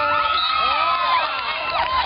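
A cheering section at a local volleyball championship final keeps up steady, loud crowd noise, with shouting and high excited voices blending into a continuous roar.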